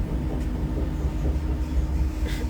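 A fast train runs along the track with a loud, steady low rumble and faint rhythmic clatter, close by, with no voices.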